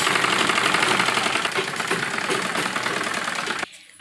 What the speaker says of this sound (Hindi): किनारे किनारे पर हम सिलाई लगाएंगे।